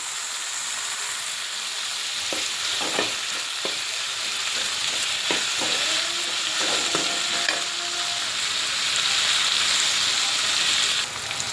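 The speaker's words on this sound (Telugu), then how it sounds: "బాగా ఆయిల్లో ఫ్రై చేసుకోవాలండి" Dry fish curry frying in oil, a continuous hissing sizzle throughout, punctuated by occasional scrapes and taps of a stirring spoon against the pan.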